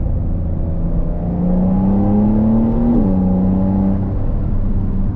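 A 2021 Porsche 911 Carrera 4S engine pulling hard inside the cabin, a rising drone that climbs in pitch, drops abruptly at a quick gearshift, then holds steady under heavy road and wind noise.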